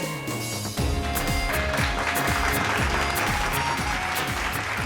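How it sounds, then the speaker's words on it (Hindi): Applause for a couple's dance at a wedding celebration, clapping entering over loud rhythmic music with a heavy repeating beat that dominates throughout. "जोरदार तालियां हो जाए"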